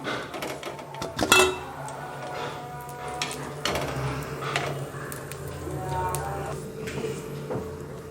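Fried sweet banana bondas are lifted out and moved into a vessel, giving a sharp metallic clatter early on, then lighter clinks and scrapes of utensils over a soft, steady background.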